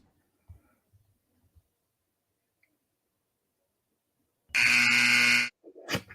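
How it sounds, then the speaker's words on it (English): A single loud electronic buzzer sounds for about a second after near silence, followed by a short muffled noise. "Little late on the buzzer, Ed."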